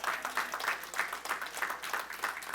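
A church congregation applauds in a steady, moderately distant roll of clapping with faint pulsing swells, sustained without a clear voice on top.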